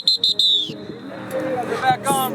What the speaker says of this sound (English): That wasn't a bad whistle.